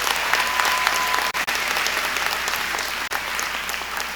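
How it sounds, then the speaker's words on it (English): A large convocation crowd gives cadets a rousing round of applause, a dense, continuous wash of clapping with a couple of brief dropouts, loud and sustained. "Please give all of our cadets a rousing round of applause."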